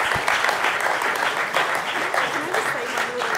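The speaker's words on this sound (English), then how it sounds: "How about we give them a round of applause?" A crowd applauding steadily, a dense wash of clapping that holds at full strength from start to finish.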